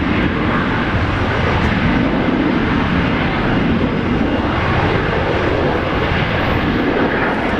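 Boeing 737-700 airliner at Brisbane Airport, a loud, steady roar of jet engines filling the whole stretch without break, close and dominant.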